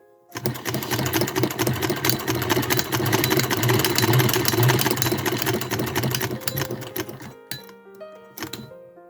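Domestic sewing machine stitching a Victorian placket, a close, fast rhythmic mechanical chatter that runs for several seconds, then slows and stops, followed by a few brief clicks and faint tonal sounds.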